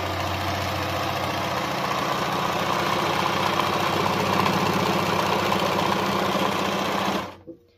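A chainsaw engine runs at a steady, loud, unbroken buzz for about seven seconds, then cuts off abruptly.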